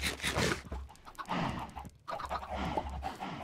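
Minecraft chickens clucking and squawking in short bursts, close and lively, with a brief pause midway; no voices.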